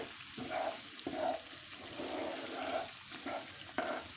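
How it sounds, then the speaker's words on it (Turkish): Semolina halva being stirred in a pan, producing a steady soft sizzle with repeated scraping strokes of the spoon at a roughly even rhythm, quiet and close with no voices. "Bunu iyice karıştıracağız."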